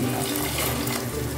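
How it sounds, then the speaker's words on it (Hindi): Water pours into a cooking pot of keema mince and peas, a short steady splashing stream heard alone. "इसमें पानी डाल दिया"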